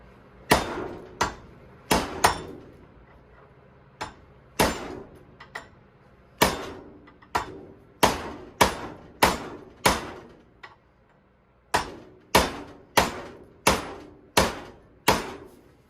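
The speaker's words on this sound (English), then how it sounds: "I'm just literally letting the weight of the hammer do the work here" Hammer blows land on a part of an Ariens SS522e snowblower, a long run of sharp, ringing metallic strikes in uneven clusters with brief pauses, close and fairly loud, no talking.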